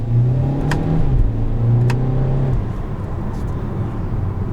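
A 2021 Kia Soul Turbo accelerating hard, engine revving up and dropping sharply as the dual-clutch gearbox snaps through quick shifts, loud and close from inside the cabin.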